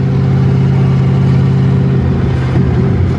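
The engine of a 1967 Chevrolet Corvette while driving, a loud steady low rumble from inside the car, with a slight rev change near the end.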